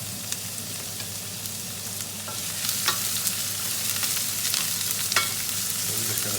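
Onions sizzle in hot olive oil in a pan for a homemade chilli sauce, a close, even crackling hiss with occasional scrapes and pops as they are stirred, no voices.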